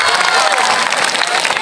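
A crowd of children claps and cheers together during a classroom religious lesson on an official school visit in North Sumatra, a loud, dense burst of clapping mixed with young voices.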